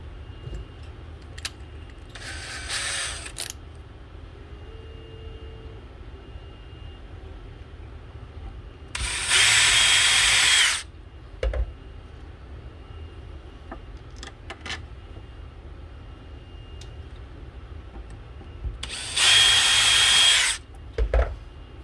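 A power drill boring holes in an Ice Hole Power Blue Box kit enclosure, three loud whirring bursts of a couple of seconds each separated by quiet pauses with faint handling clicks.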